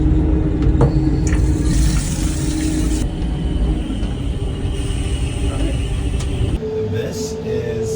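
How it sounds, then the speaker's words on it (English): Toilet flushing in the restroom of an Amtrak Maple Leaf train, a loud sustained rushing roar over the rumble of the moving train, cutting off abruptly near the end while the train noise continues. "flush."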